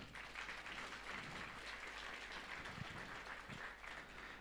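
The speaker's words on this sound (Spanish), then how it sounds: "vamos a dar fuertes aplausos" A Sunday church congregation applauds a visiting singing group, a faint, distant wash of steady clapping with a few sharper individual claps near the end, no talk over it.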